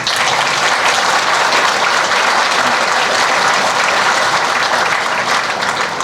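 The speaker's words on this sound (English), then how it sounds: "Another round of applause." Audience applause fills a change of command ceremony for the New York District, a steady, dense clapping from a large crowd that runs loud and unbroken throughout.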